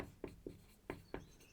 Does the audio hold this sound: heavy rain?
no